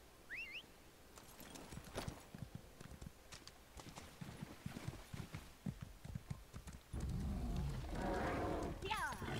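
Steady clip-clopping horse hooves in Elder Scrolls Online trot along at a regular pace, fairly close, with a faint voice and a louder burst of noise near the end.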